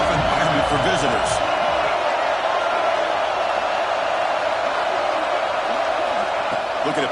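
Steady roar of a large stadium crowd cheering at a football game, filling the whole stretch with dense broadband noise that swells slightly near the start and stays loud throughout, with no clear talk on top.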